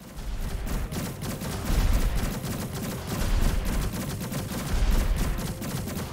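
Rapid, dense bursts of gunfire-like shots from a laser defense tower in a tower defense video game, loud and continuous with rhythmic surges, no talking over it.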